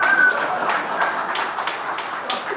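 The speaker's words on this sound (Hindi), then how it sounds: "रवि जी के लिए ताली बजाइएगा" An audience at a Loomba Foundation event attended by a state governor claps in a soft, scattered patter that carries on steadily at moderate distance.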